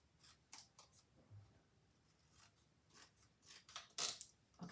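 Scissors snipping paper cardstock at a card edge, several short crisp cuts in an irregular series, close and quiet, with the last snips loudest.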